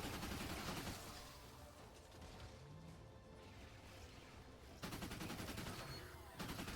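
Assault rifle gunfire from Fortnite Save the World, dense bursts and sustained volleys with sharp impact crashes, loudest at the start and again after the midpoint, continuous and close.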